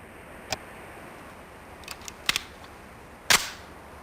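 MP5 gunfire in the PC game Police Quest: SWAT, heard as a few sparse, sharp single shots, separate cracks with one louder shot near the end, spaced by quiet stretches.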